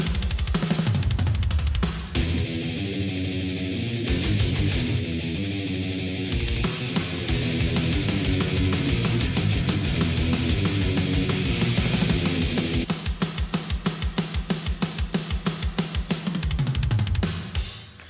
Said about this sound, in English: So I think it was originally the old school death metal preset from Ultimate Heavy Drums.